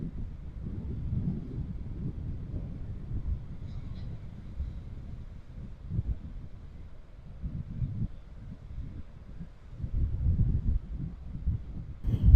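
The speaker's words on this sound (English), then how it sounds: "Absolutely awful day to be walking along the beach. Absolutely, it's disgusting. So windy." Strong storm wind on Dundee Beach, heard as a steady low rumble and buffeting against the microphone. It swells in gusts for the whole stretch, and no talking is heard.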